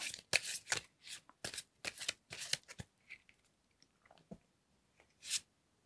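Tarot cards shuffled and laid out on a table, crisp papery riffles and slaps close by, a quick cluster of sharp bursts followed by sparser, softer placements, with no talking.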